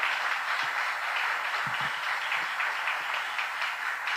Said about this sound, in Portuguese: Você pode aplaudir a ele por isso mais uma vez